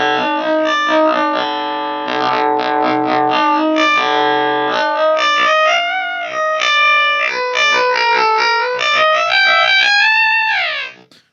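A baritone guitar played through a LEKATO PS-01 pitch-shifting pedal rings out with bright, pitch-shifted, distorted tones, sustained chords sliding and warbling before cutting off abruptly.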